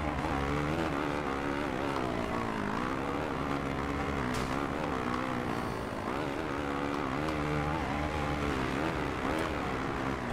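A motocross bike in the MXGP 2 video game races at the Kegums MX2 round, its engine revving and droning steadily throughout with rising and falling pitch, no talk over it.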